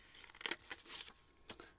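Scissors snipping through paper to cut a small hillside shape for a snowy bear card, a few quick close crisp cuts in an uneven rhythm.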